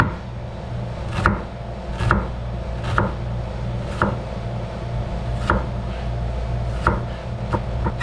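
A knife chops ingredients for homemade guacamole on a cutting board, about ten sharp, close knocks spaced roughly a second apart over a low background hum.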